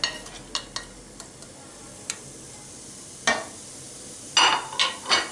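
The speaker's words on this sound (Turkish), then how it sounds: "Rendelediğimiz havuçları tavamıza alıyoruz." Grated carrots dropped into a pan for cooking, heard as scattered clinks and scrapes of a utensil against the pan with soft rustles, several louder stirring knocks toward the end, no talking.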